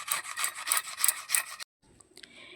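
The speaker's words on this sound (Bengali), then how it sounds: "এইভাবে আমগুলো ঘষে নিতে হবে।" Mangoes are scraped firmly by hand in quick rhythmic rubbing strokes, close and crisp, before a short pause and a few softer rubs, with no talking.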